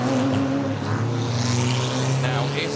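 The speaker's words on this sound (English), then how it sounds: "Now, if the car can be got going, as indeed it is." Race car getting going at the Zandvoort race start: a loud revving engine with rising and falling pitch, heard among other cars' engines under crowd-like background noise.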